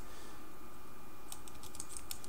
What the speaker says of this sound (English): you're just going to type in an address